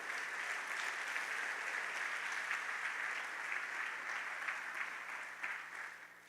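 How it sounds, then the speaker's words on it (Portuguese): A church congregation applauds during a sermon, a sustained, even wash of clapping at moderate distance that fades slightly toward the end, with no voices over it. "Dê um aplauso ao Senhor se você me entendeu"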